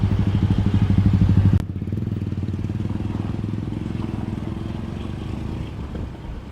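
Motor engines rumble and putter steadily, a loud idling motorcycle close by that drops to a lower drone of traffic after a sharp change.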